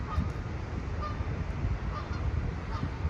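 Goose-like honking from a pair of ducks flying overhead, repeated calls set against steady outdoor background noise, moderately distant and without talk.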